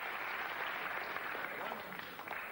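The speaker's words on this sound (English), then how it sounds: "And now every time he sinks a ball, he's getting so much applause." Snooker crowd at the 1998 Welsh Open final applauding a potted ball: dense, sustained clapping from a large audience, steady and fairly close throughout.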